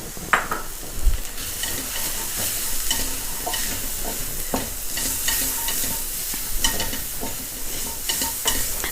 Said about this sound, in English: And then now we add our masala spices.